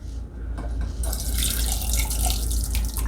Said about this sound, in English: I'm gonna go ahead and pour this on in here